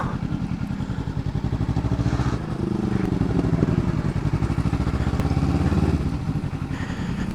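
A Kawasaki Ninja 300 motorcycle engine thrums steadily while riding, a close, continuous low putter with slight changes in pace and no talking.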